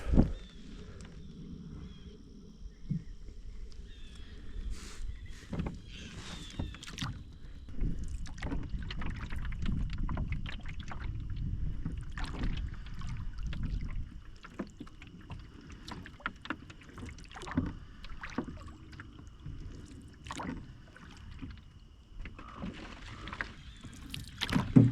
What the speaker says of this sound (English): We have to canoe through this swamp, and the pond's right out here.